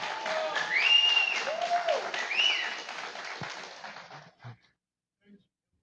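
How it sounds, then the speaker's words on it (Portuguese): An audience applauds steadily at an indoor talk, the clapping loud and continuous with whistles rising over it, then fading out into a few last claps. "Uma salva de palmas ao Pablo"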